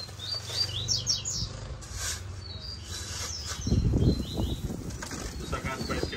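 Coleiro baiano songbirds chirping and singing, several high bright chirps and short trills up close, with louder rustling and fluttering noise in the second half.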